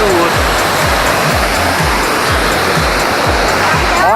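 The Cachoeira da Fumaça waterfall gives a loud, constant rushing roar heard close up, with low rumbling pulses repeating beneath the steady wash of falling water.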